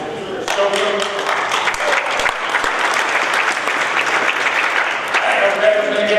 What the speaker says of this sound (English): I don't know if was going to get that much of an applause.